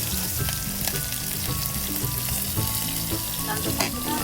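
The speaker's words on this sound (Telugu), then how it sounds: "దీంట్లో నేను ఇప్పుడు గ్రీన్ చిల్లీ వేస్తున్నాను." Green chilli and onion frying in hot oil give a dense, steady sizzle close up, with faint stirring clicks and no talk.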